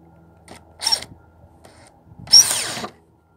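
A power drill drives a screw into a wooden garden bed frame, with a brief whirring burst followed by a louder, longer run that stops abruptly, close and loud with no talk.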